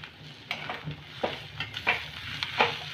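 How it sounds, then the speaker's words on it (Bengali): Boiled potato filling stirred and fried in a pan, a spoon scraping and tapping in soft repeated strokes over a low, steady sizzle, close and fairly quiet with no talking. "এখন আমি আলুটা দিয়ে আর একটু কষে নেব।"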